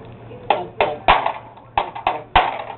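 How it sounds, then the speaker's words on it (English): A toy hammer pounds a ball into a toy, giving six sharp, fairly loud knocks at an uneven pace, each with a short rattle after it, close to the listener. "Get that ball in there. Yeah, hammer it. Use your hammer."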